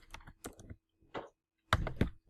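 Computer keys tapped in a few short bursts, separated by brief pauses, soft and close, with no talking.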